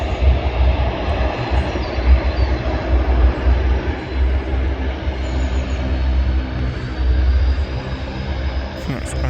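An Icelandair airliner passes near the South Side Viewing Park, a loud, steady, broad jet roar with deep low rumble sustained throughout, some voices present underneath.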